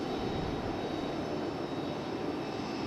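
A United Boeing 737 jet at Raleigh-Durham airport gives a steady, loud broadband engine roar that holds evenly throughout, no talk.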